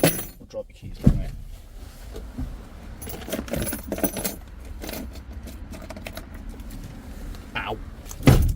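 Keys dropped and jangling inside a 2010 Mercedes Sprinter van during an EGR and cooler change, a sharp metallic clatter near the start and another toward the end, with scattered rustling and handling noise between.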